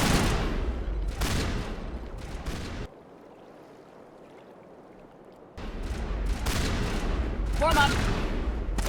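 Rapid gunfire from a firefight in the video game Mass Effect bursts in dense volleys, cuts out for a few seconds, then returns loud and close, with a voice speaking over the shooting.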